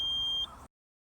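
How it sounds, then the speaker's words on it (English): A groundwater level probe spool gives a single steady electronic beep, roughly half a second long, fairly faint, before cutting to silence. "the spool gives off a loud beep"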